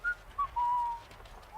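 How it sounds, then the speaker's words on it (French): Someone whistles a few short notes followed by a longer sustained tone, faint and alone against a quiet background. "Ah, arrêtez de siffler."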